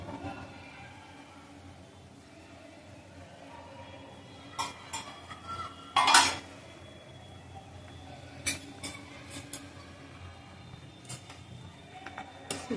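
During mixed vegetable soup cooking, a pot lid is lifted and pots and utensils clink. Several sharp metallic clatters stand out against a quiet kitchen background.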